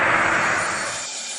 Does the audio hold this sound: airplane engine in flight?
yes